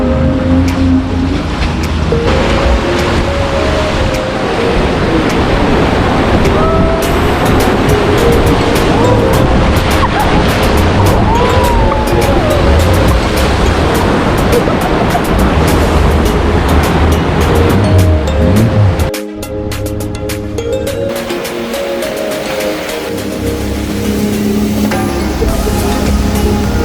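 Loud, continuous rushing water roars as a raft runs river rapids in the Grand Canyon, a dense churning wash that dips briefly near the end before surging on.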